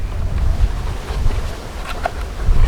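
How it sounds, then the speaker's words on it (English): Outdoor wind buffets the microphone with loud, steady low rumble and gusty roar, filling the short stretch without a break. "It's nice and windy out here today."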